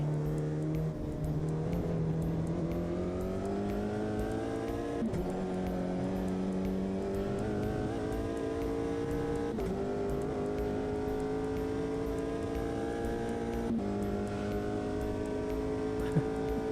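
An Aston Martin race car engine in the Automobilista 2 racing game howls continuously, its pitch climbing through each gear and dropping back sharply at upshifts, loud and steady throughout.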